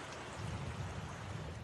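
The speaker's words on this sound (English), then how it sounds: "The water running over parched and thirsty ground." Heavy outback storm rain near Cobar, Australia, pours steadily onto parched ground as a dense, continuous hiss of falling water with a low wash of runoff beneath, close and loud, with no voices.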